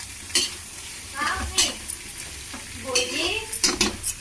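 Mixed vegetables stir-fried in a pan for a home meal, with a steady sizzle under repeated scraping and clinks of a spoon against the pan, close and fairly loud, with no talking.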